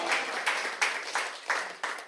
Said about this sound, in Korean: 이 정도에 원래 박수 좀 나와요